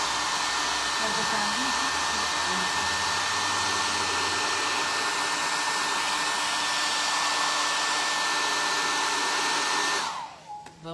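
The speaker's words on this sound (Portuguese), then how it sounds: "Sei que o barulho do secador é fraquinho." A hair dryer drying paint on a chest of drawers runs as a steady, loud, continuous whine for about ten seconds before shutting off. A short spoken remark follows.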